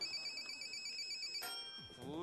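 A telephone rings as a caller is connected live on a Chinese TV game show, an electronic ringtone with a sharp tone change partway through and voices in the background.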